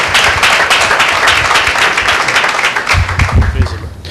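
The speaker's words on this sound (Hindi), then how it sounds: "एक जोरदार ताली परमेश्वर की महिमा के लिए" Loud, dense applause from a church congregation at a Christian prayer meeting, sustained clapping filling the room throughout and tapering slightly near the end.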